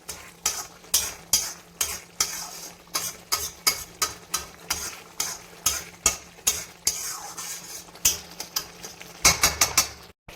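Spice powder being stirred into a dry fish curry in a pan, a regular series of sharp scraping strokes about twice a second over a faint sizzle, close and clear.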